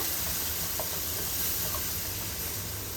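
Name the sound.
asafoetida and turmeric added to hot oil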